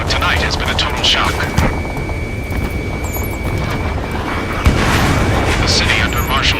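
Gunfire and roaring jet aircraft in the Ace Combat 7 combat flight game, a dense continuous rumble with booms and engine roar echoing over a city under martial law, voices talking over it.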